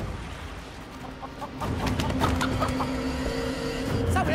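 A fighting rooster in the game Sleeping Dogs gives a series of short, close clucks and squawks. They rise out of a low background hum and grow busier and louder midway through.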